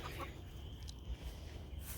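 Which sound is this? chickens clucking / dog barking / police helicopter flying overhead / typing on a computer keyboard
chickens clucking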